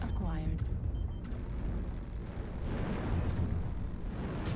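Airstrike explosions in the mech combat game MechWarrior Online rumble as deep, heavy booms with a rolling swell near the end, while a voice talks over the blasts.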